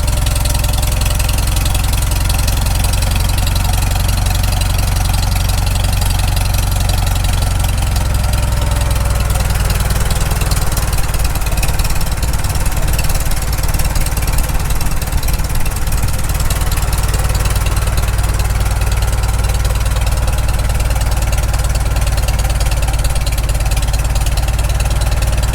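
A rebuilt Farmall Super M tractor engine idling on low idle during carburetor adjustment, a loud, steady low rumble running throughout with a slight shift in tone partway, no voices.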